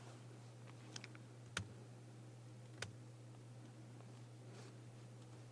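A few sparse key presses on a computer keyboard, light isolated clicks spaced a second or so apart over a steady low electrical hum, with no voices.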